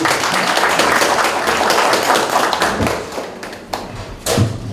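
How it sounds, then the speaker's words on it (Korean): Applause at a meeting of a Korean club hosting a regional tax office head, heard as close, uneven claps and thumps with a few loud hand hits that thin out and return toward the end. "뜨거운 박수 부탁드립니다"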